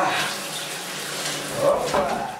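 Shower water runs in a steady broadband hiss, with louder splashing surges near the end, as if the spray is striking a body or surface.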